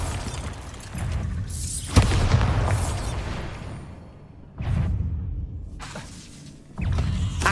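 A Bombarda spell goes off in Hogwarts Legacy as a sharp burst with a blasting boom, followed by several more rumbling impacts and whooshes in separate waves.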